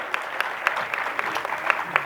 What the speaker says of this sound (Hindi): एक बार जोरदार तालियों से आप सभी स्वागत कीजिए।